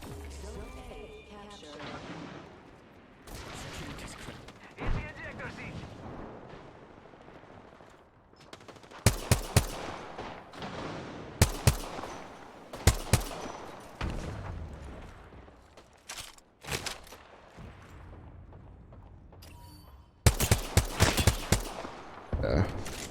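SMG fire in a shooter game comes in sharp, loud bursts, mostly in clusters midway and near the end, over a bed of game ambience and quieter mechanical clatter.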